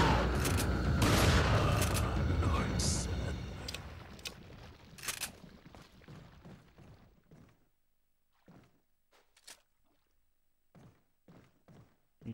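Gunfire in the video game Resident Evil 4: a dense, loud volley of shots for several seconds, then thinning into scattered single bangs and thuds that grow fainter and sparser.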